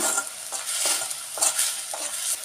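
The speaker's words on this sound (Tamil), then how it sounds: "நல்ல ஓரளவுக்கு வெங்காயம் வதங்கி வந்துட்டுருக்கு" Onions sauté in a pan for a fish curry, with a soft sizzle broken by several scraping stirs of a spatula against the pan, close and uneven.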